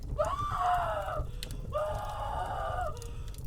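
A woman's drawn-out dying screams in a Ukrainian horror story, two long wailing cries in a row, loud and close, with a short gap between them.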